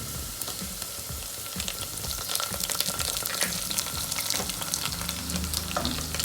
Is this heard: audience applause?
no